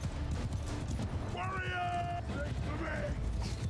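Cavalry horses galloping in battle in Mount & Blade II: Bannerlord, a rumbling mass of hoofbeats and clatter beneath constant talking, with brief creaking and metallic tones over the din.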